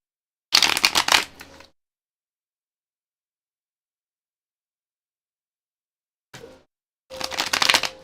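Tarot cards are shuffled in two short, loud riffle bursts separated by several seconds of silence, with a brief soft card tap just before the second burst.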